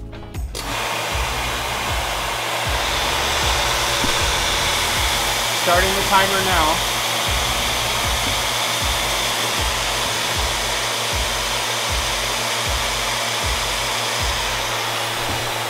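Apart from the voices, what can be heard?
cow milking machine running, creating suction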